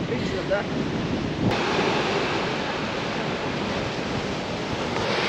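Sea waves wash continuously along the seaside in Aberdeen on Scotland's east coast, a loud broadband roar mixed with wind buffeting the microphone, with no talking heard.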